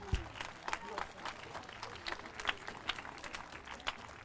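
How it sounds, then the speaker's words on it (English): Sparse, faint clapping from a small audience at a concert, quite distant and uneven, with scattered individual claps and a soft background murmur. "Yes, give them the clap."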